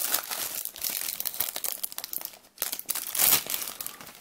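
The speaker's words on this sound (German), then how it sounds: "So, dann packen wir es mal aus." Plastic wrap on a DVD box set of a 1990s Sinbad adventure series crinkles and tears as it is unwrapped, a close, busy run of crackling bursts with a brief pause midway.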